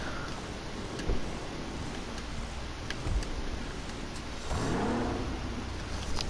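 A Dewbauchee Specter, an Aston Martin-style sports car in GTA Online, starts up: quiet idle ticking and low rumble, then a rising engine rev swells near the end, with no talking.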